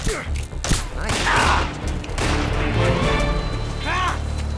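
Gunfire in Metal Gear Solid 3: Snake Eater during the Ocelot duel, with shots popping over a busy, continuous game soundscape of clatter, music and effects, fairly loud throughout.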